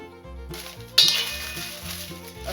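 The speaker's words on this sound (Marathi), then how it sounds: "आपण त्याच कढईत आता तेजपान भाजून घेऊ." Bay leaves roasting in a dry kadai while making homemade garam masala: a single sharp metallic clink of a utensil against the pan, then a soft rustle over low background music.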